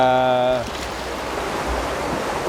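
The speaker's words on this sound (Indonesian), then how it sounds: "aliran sungai yang hebat" A river stream at Tongging on Lake Toba makes a steady, broad rushing flow that fills the scene after a brief voiced tone fades in the first half second.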